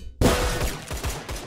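Rapid gunfire in the online shooter game Line of Sight: a loud, dense burst of repeated shots bursting in after a brief silence and rattling on steadily, with no talk over it.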